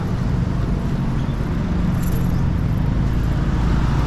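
Cars passing on a busy morning street in Chiang Mai's Old Town during the school run, a steady, loud roar of road traffic with no clear breaks.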